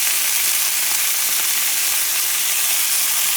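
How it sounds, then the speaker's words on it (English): Marinated onions piled onto cube steak fry in a hot pan, producing a loud, continuous hissing sizzle with no pauses or talk. "you're going to add the onions. And I'm going to add a lot. These onions are marinated."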